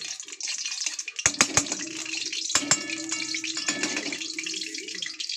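Ghee poured into a wok over a stove, a steady liquid pour with a few sharp metallic clinks of the container against the pan, close and fairly loud.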